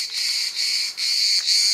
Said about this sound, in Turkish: Bunlar da müstakbel eşini arayan cırcır böceklerimizin sesi.